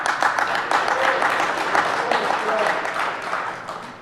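Applause breaks out across an audience at the DEF CON 20 recognize awards ceremony, dense overlapping claps close and steady for a few seconds before easing off, with a voice over the top.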